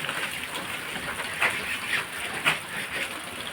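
Monsoon rain in Bhavnagar, Gujarat, falling as a steady broadband hiss that fills the whole stretch, with a few brief louder surges of spatter standing out over the constant wash.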